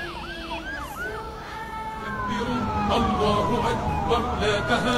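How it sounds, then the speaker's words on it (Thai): Convoy of about ten ambulances leaving an air force base for an air force hospital in Malaysia, several wailing and yelping sirens overlapping and growing louder as the vehicles approach, under a narrator's voice. "ขบวนรถพยาบาลนับ10คันได้เคลื่อนออกจากท่าอากาศยานกองทัพอากาศ"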